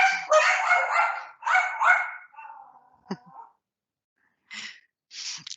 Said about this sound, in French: Les chiens qui s'éclatent.